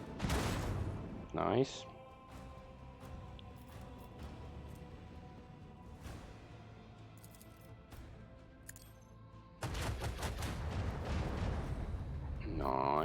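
Torpedo launches in the Warhammer 40,000 game Rogue Trader: a loud burst at the start, a quieter low rumble through the middle, then another heavy blast-like surge near the end, with a brief spoken comment.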